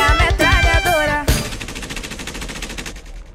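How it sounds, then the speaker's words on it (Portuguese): Rapid machine gun bursts in Call of Duty: Ghosts, a loud close rattle of fast shots, then a sharp final report whose tail fades into an echoing decay. "Pega a metralhadora."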